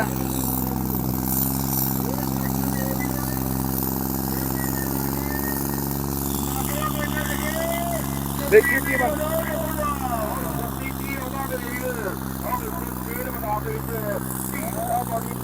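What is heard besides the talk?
tractor engine revving in tractor-trolley pulling contest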